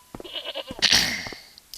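Goat in the Broken Sword video game bleats several times in short quavering calls, with one louder, longer bleat in the middle, close and clear with no talk.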